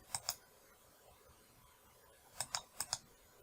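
Computer mouse clicks on a PC, two crisp clicks near the start and then a quick group of four near the end, close and fairly loud over a quiet room.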